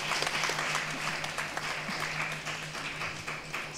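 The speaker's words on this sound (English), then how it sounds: "can we have a huge round of applause for Marlise?" A conference audience applauding for Marlise at a health event, a steady, even patter of many hands clapping at moderate distance, continuous throughout with a faint low hum underneath.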